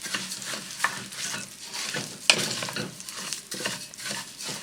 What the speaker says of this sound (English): I'm going to add my rice.